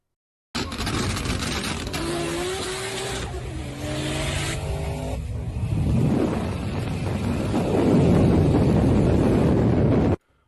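A roughly 1,000 horsepower Toyota Supra with a huge rear wing, racing on the street in a driving game: engine tones climbing through gear changes, then rushing wind and roaring noise that swell louder toward the end, with no talking.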